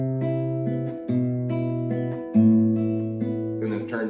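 Classical guitar playing a passage of Malagueña in the Parkening arrangement, with sustained bass notes under repeated plucked treble notes in a slow, even rhythm, close and clear with no talking.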